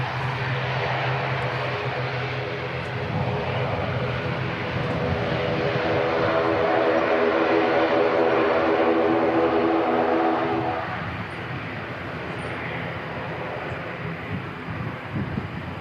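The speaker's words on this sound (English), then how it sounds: "Looks like the Air Chatham's ATR is on the move." An Air Chathams ATR turboprop airliner moves at Christchurch Airport. Its engine drones steadily and swells to a broad, loud roar midway, then eases back to a lower hum.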